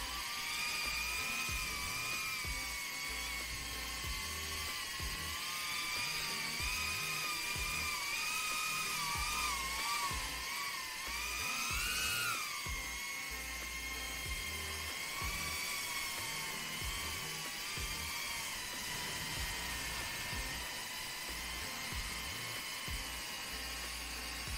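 Cinelog25 FPV drone flying through a forest, its small propellers giving a steady, loud high-pitched whine that rises and falls in pitch as the throttle changes, continuous for the whole stretch with no talking.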